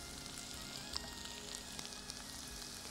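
Capsicum sautéing in a pan gives a steady, soft frying sizzle with faint scattered crackles throughout, no voices.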